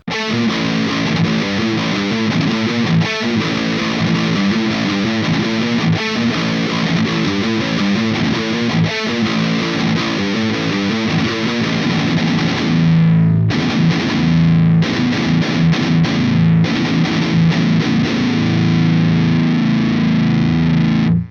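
Heavily distorted metal electric guitar plays chugging riffs continuously, loud and saturated, with a short pause and choppy palm-muted bursts toward the end.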